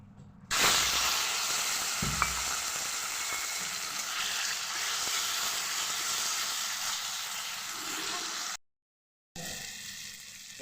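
Pieces of palm fruit drop into hot mustard oil in a kadai with a sudden loud burst of sizzling, then a dense, steady frying hiss that cuts out briefly near the end.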